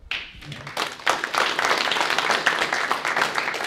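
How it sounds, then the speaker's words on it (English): A crowd applauds steadily, dense clapping rising quickly and holding at a fairly loud level for several seconds. "I'd like to give them a small round of applause."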